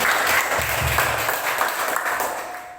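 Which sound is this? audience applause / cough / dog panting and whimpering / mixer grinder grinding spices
audience applause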